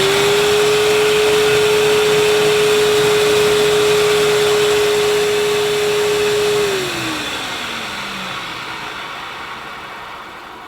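A Hoover U2090 Turbopower 2 upright vacuum cleaner runs loud and close with a steady motor whine, then winds down as it is switched off, its pitch sliding lower while the roar fades.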